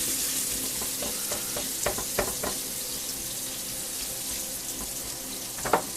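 Beef browning in olive oil and butter in a skillet for beef stroganoff, a steady close sizzle with a few scraping stirs and clinks from a spatula, no talking.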